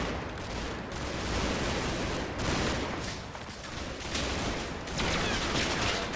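Machine gun fire in a combat video game, sustained bursts rattling at moderate loudness with distinct sharp shots at intervals, continuous across the stretch without talk.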